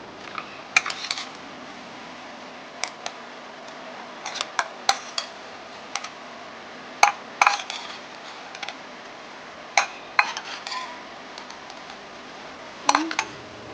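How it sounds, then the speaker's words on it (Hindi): Chicken being added and stirred into a pan for Mongolian-style chicken fried rice: sparse, sharp clicks and scrapes of a utensil against the pan, fairly close over a quiet background with no voices. "अभी चिकन डालेंगे इसके अंदर।"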